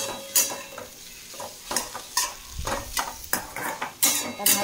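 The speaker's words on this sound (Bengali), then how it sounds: "দেখো আলু দিয়ে, পেট দিয়ে, গাজর দিয়ে ভাজা বসিয়ে দিয়েছি।" Potato and carrot pieces sizzle in a pan as a utensil stirs and scrapes, giving repeated clinks and scrapes over a steady frying hiss, fairly close, with no talking.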